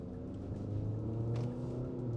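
Inside a 2025 Infiniti QX60 VC Turbo on the road, a faint low engine and road rumble holds steady, with a slight rise in engine tone partway through and no voices.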